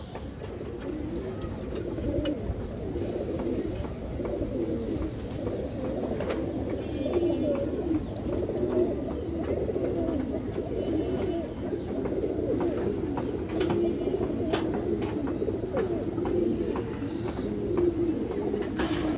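Several domestic pigeons, including a male, coo in a low, continuous murmuring drone, steady and fairly close, with faint clicks and rustles of a loft in the background.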